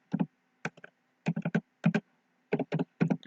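Bursts of computer keyboard typing while a blog post is written, quick clusters of close, crisp key clicks separated by short pauses, with no voices.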